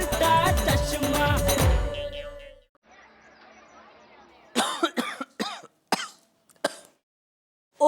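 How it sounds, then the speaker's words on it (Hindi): A man in an Indian TV sitcom scene coughs in several harsh, separate bursts with throat clearing. The bursts are close and loud, following a musical passage with quiet pauses between them. "ओहो, इतना खांस रहे हो पर डॉक्टर के पास अभी तक क्यों नहीं गए आप?"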